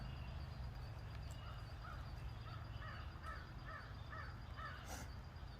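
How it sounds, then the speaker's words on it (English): Several crows caw outdoors in a rhythmic series of short calls, moderately distant, over a steady low background hum with no talking. "Y'all hear them crows just talking away."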